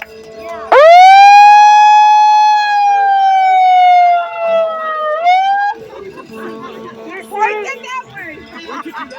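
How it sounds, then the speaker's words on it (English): A loud, wailing emergency siren rises and sweeps at an outdoor congestion-pricing protest at Tramway Park, 59th Street and 2nd Avenue, then fades as a second shorter wail follows, with muffled talking and background noise afterward. "See, we have the sirens too."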